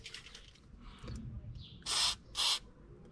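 Two short, sharp hisses come from a WD-40 aerosol can sprayed onto the jammed throttle linkage of a Mercedes R107 with KE-Jetronic injection. Both bursts are close by, with quiet workshop rustling before them.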